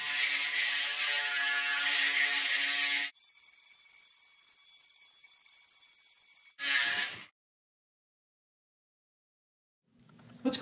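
A Remington electric shaver buzzes loudly and steadily, shifting to a higher whine, then a brief burst before stopping into silence.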